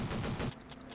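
In Counter-Strike 1.6, a gun fires a rapid burst of close, punchy shots, about five or six in half a second, followed by a couple of fainter, sharper reports and a hum of game background noise.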